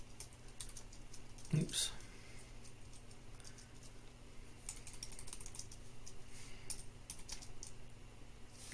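A computer keyboard typing a search word into a stock-image site, giving quick light clicking bursts close to the microphone, with a brief spoken interjection partway through.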